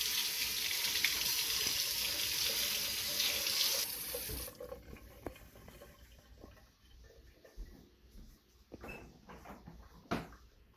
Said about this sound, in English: Now we must wash the hands.